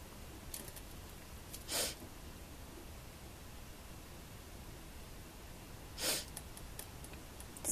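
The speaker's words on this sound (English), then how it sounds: "Excuse my sniffing." A person sniffs twice, two short, soft nasal breaths several seconds apart against a quiet, hissy room background, with no talking.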